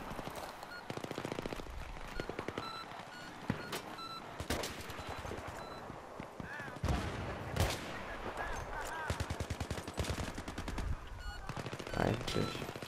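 Gunfire in the Battlefield 3 multiplayer video game, with rapid bursts of automatic shots and sharp single cracks repeating loudly throughout, mixed with scattered game effects and brief voices.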